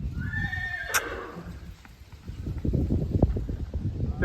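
A mare gives a clear, fairly close whinny, followed by a run of hooves clip-clopping on the ground outdoors.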